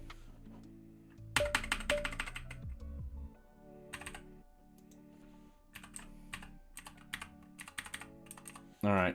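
Computer keyboard keys pressed while coding in the Vim editor, with a run of sharp, close clicks coming in bursts amid a steady tonal hum in the room.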